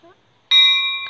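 An antique bicycle bell, an old-style ring on an onthel bike, gives one bright metallic ring that lingers and slowly fades after a short moment of quiet.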